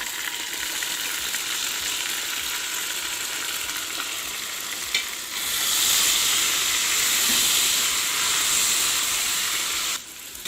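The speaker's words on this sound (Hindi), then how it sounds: "अब मैं इसमें ऐड करूँगी 2 कटे हुए टमाटर और इसका मसाला बना लूँगी।" Chopped tomatoes frying in a pan for dhaba-style aloo matar masala, giving a steady, close sizzle and hiss that swells louder midway and then drops back near the end, with no talking.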